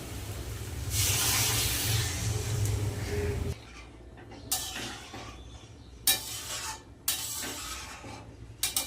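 Water is poured onto fried spice masala in a hot pan, giving a loud hiss for a few seconds, then quieter bubbling with a handful of sharp clinks and scrapes nearby.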